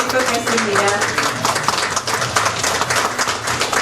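Audience applause at an IT convergence business award ceremony comes as a dense, continuous patter of clapping, mixed with a voice speaking over it.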